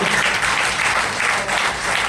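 Hearty applause from a crowd at a motivational business gathering fills the room, dense continuous clapping at a steady loud level throughout.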